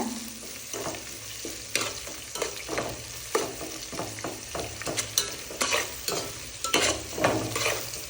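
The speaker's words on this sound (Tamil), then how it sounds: "ப்ரௌனா வர வரைக்கும் நல்லா கிண்டிக்கோங்க" Two sliced onions being stirred and fried until brown for white biryani, with close, repeated scraping strokes of a spoon against the pan over a continuous sizzle, and no voices.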